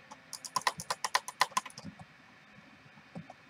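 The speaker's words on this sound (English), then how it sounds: "I'm just gonna drag click right now" Rapid, light mouse clicks burst out in a fast drag-click flurry during a Minecraft Hypixel SkyBlock session, about a dozen quick taps in a second and a half, then a few scattered clicks, close and quiet.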